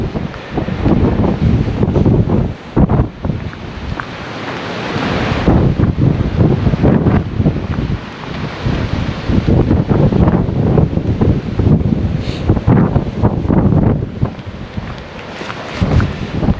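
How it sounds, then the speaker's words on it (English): Strong wind buffets the microphone on the Dorset coast at Hengistbury Head, a loud, continuous roar with surging gusts and rustling over the whole stretch, with no talking. "it's so windy"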